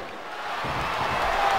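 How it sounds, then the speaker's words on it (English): Crowd noise from the WWE SmackDown vs Raw 2007 wrestling video game swells into a broad, steady roar during a match, growing slightly louder toward the end. "And the crowd has come alive."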